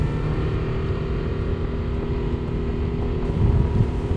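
A Honda BF 250 outboard motor drives an inflatable boat at about 34 knots near 4800 rpm, giving a loud, steady roar with rushing wind and water noise and no talk.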